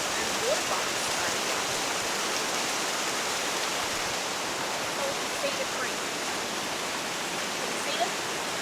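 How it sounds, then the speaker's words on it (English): A creek in Brisbane, the water rushing steadily as a broad, even wash of flowing noise, close and continuous without pause. "And here's the creek."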